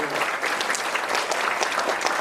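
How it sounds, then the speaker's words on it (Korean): Dense, continuous clapping from a seated audience at a meditation lecture, fairly close and even in loudness throughout, with no talking over it. "큰 박수로 다시 한번."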